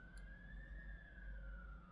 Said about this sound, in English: I have the window cracked open a little bit, but you hear all those sirens